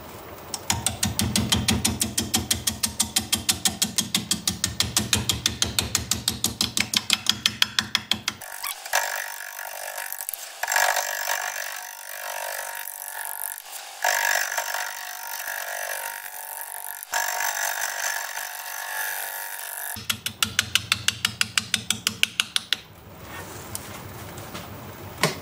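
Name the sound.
wood lathe turning a manzanita root ball bowl with bowl gouge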